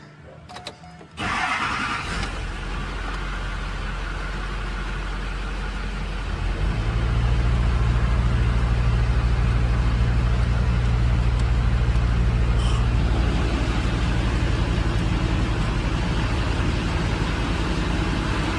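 A Chevrolet Duramax truck engine cranks and catches after a quiet start, then settles into a steady idle. It grows louder and fuller partway through as it keeps running.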